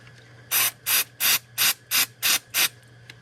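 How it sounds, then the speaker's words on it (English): Brake cleaner sprays from an aerosol can into an oil-soaked oil sensor connector on a Hyundai/Kia 3.5 engine, in seven short, evenly spaced hissing bursts close by, with no talking. "I'm just going to take a shot of brake clean."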